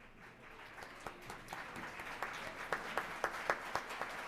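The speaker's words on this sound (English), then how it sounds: "we'd like you to stand so we can thank you and give you a round of applause" Distant audience applause at a National Philanthropy Day event, as the crowd stands to honor guests; it starts thin and builds into steady clapping, heard faintly from across a large room.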